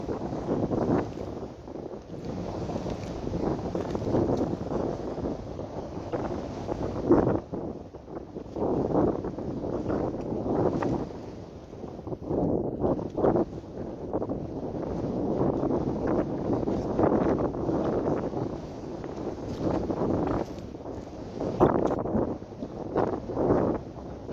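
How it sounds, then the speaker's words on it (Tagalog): Strong wind roars and buffets the microphone continuously for the whole stretch, loud and gusty with rumbling surges and no talking. "Sobrang lakas po ng hangin"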